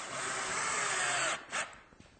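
A power drill drives screws into a wooden rail cap during a cabinet rail install, one sustained whirring run then a short second burst, close and fairly quiet, followed by faint handling clicks.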